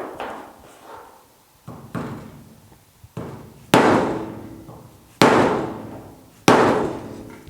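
A hammer strikes the sheet metal of a GTO restomod fender near the door transition in a series of sharp, ringing metallic blows, spaced about a second apart and growing louder, with no talk.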